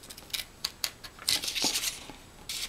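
Scissors snipping through fabric along a pattern line for capri pants, a series of short crisp cuts and paper-like rustles, close and fairly quiet with no voices.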